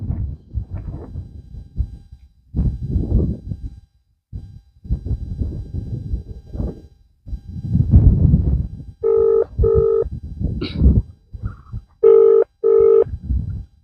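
An outgoing phone call rings without being answered: after muffled background sounds, the ringback tone comes in clear pulses, first a pair of rings and then another pair after a short pause.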